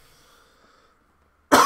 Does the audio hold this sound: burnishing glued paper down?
no